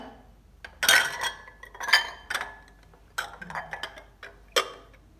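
Glass bowls clinking and knocking against each other as they are lowered into a vinegar soak, a few distinct sharp chinks spread out with quiet pauses between them, close by and with no talking.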